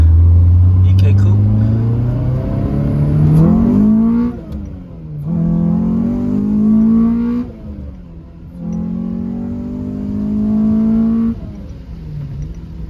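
Honda Civic with a K24 engine swap and manual conversion accelerating on the road, its engine note climbing through gears in repeated rising pulls with brief dips at each shift, close and loud, with a voice talking over it.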